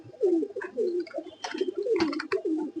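Pigeons coo in low, rolling phrases one after another, close by, with scattered clattering and rustling noises in the background.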